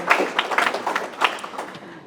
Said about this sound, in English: I think another round of applause is needed